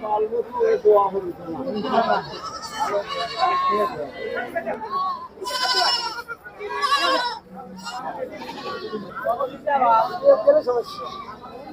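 Mother goat and her kids bleat at the Talgachhi goat and sheep market in Sirajganj, with a few wavering calls rising out of steady crowd chatter and nearby talking throughout.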